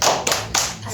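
Children applauding together in a classroom, a dense, loud burst of clapping with a few rhythmic surges, close and filling the room.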